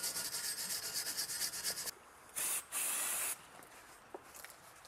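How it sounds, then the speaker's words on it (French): Brake caliper mounting surfaces on a Porsche 911 are cleaned up close: a stretch of brisk scrubbing and rubbing, then two short hissing spray bursts, followed by quieter handling noises without speech. "Alors là, on vient bien nettoyer les surfaces d'appui."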